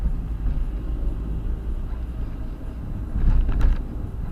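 A car engine hums low and close during a driving lesson as the clutch is released in second gear, and it swells louder near the end as the car speeds up.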